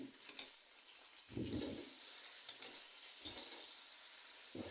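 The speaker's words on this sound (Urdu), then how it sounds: "4 سے 5 منٹ آئل میں ہم نے آلوؤں کو اچھے سے فرائی کرنا ہے" Large potato pieces fry in hot oil in a kadhai for a dhaba-style dum aloo, giving a steady close sizzle with a few louder bubbling bursts.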